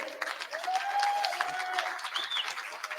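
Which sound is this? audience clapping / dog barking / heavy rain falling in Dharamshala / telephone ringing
audience clapping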